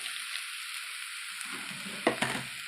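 A quiet, steady pan sizzle turns to a brief burst of bumps and scraping as sprouted green gram goes into the pan and is stirred, with no voices.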